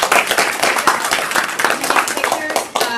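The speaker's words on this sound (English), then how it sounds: "let's give everyone a round of applause" An audience at an elementary school event applauds, producing dense, steady clapping from many hands throughout, loud and close, with voices mixed in underneath.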